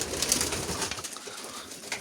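Fancy pigeons in a coop in Bulgaria coo softly in a short, close burst, their low warbling calls overlapping against a faint background hiss.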